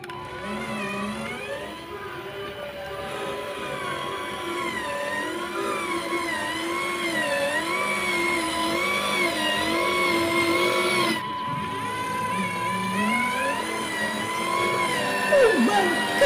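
A 4x4 RC Canter truck loaded with sand drives along, its motor giving a continuous close whine that wavers in pitch as it strains under the weight.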